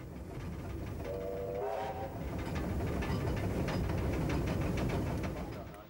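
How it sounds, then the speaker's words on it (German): Running French steam locomotive 241 A 65, a large express engine travelling toward Basel, gives a steady loud rumble and chuffing throughout, with a brief whistle-like tone partway through and no speech over it. "Die Lok ist auf dem Weg nach Basel."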